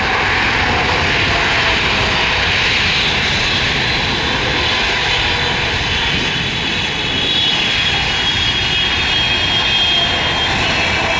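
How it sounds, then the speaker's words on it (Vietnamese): China Airlines airliner in Zootopia livery landing on runway 25R, a loud continuous jet engine roar with rushing air, steady and close for the whole stretch without voices. "bây giờ máy bay đang nhanh chóng hạ cánh xuống đường băng 25 phải"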